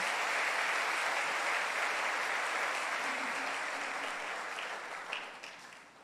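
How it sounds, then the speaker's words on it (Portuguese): A church congregation applauds in a dense, sustained wash of clapping that gradually thins and fades toward the end. "você pode aplaudir o nome do Senhor"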